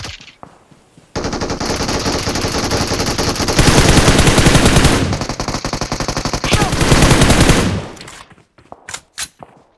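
Rapid automatic gunfire in the battle-royale game BGMI, loud and close, with sustained bursts of repeated shots across several seconds. A short break falls between the bursts, and a few isolated shots come near the end.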